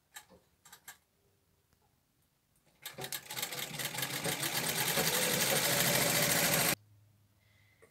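An electric sewing machine stitches cloth for a goddess idol's dress, starting after a few light clicks and running as a loud, fast, steady whirr for about four seconds before stopping abruptly.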